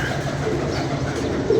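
A pigeon on a rooftop cooing, a low, soft, continuous coo heard close by against steady background noise.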